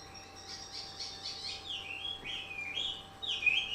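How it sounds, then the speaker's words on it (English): Two caged male songbirds trade bright chirps and rising, sliding whistled phrases, overlapping in an excited back-and-forth at moderate distance, with steady faint background hum and no talking. "there are two birds. They're just going at it, having a singing contest."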